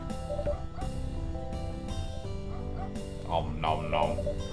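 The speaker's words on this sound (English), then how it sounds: "Play with my dog." A pet dog in the video game Headliner: NoviNews yips and barks playfully over steady game music, short bursts repeating through the moment.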